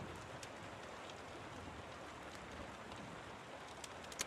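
Steady rain ambience of drops pattering on a surface plays as a continuous, faint background wash throughout, with no voices.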